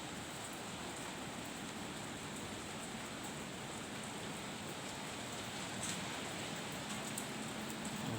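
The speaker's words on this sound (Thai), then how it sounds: "แต่ว่าฝนตก" Steady rain falling continuously, a dense even patter with no voices, constant in level throughout.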